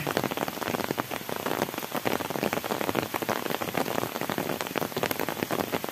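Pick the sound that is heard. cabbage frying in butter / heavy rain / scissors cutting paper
heavy rain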